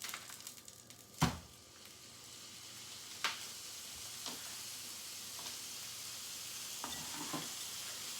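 Ground sausage and a pound of hamburger meat sizzle and fry in a pan with a steady hiss, broken by occasional louder scrapes and stirs of a utensil, all without speech.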